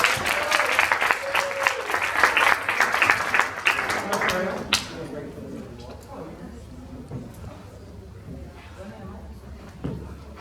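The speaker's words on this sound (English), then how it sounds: "Please give him a round of applause." A burst of clapping and applause from a crowd for a few seconds, then fading into quiet room murmur.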